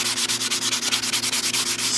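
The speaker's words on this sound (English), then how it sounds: "what I generally do is take a very fine sanding block" A fine sanding block lightly rubbed back and forth on the wooden stock of an Egyptian Hakim 8mm Mauser rifle, giving a steady, close, raspy swish repeating about every tenth of a second, with no voices.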